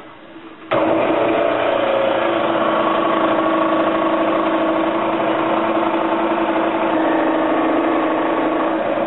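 A power saw cuts a wooden prop gun shape traced from a paper drawing, kicking in after a brief quiet moment and then running as a steady, loud, continuous whine with no talking.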